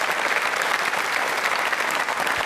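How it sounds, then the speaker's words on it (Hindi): An audience at a school quiz show applauds the food minister with continuous, even applause, loud and close throughout. "तालियां बजाइए माननीय मंत्री महोदय के सम्मान में एक बार।"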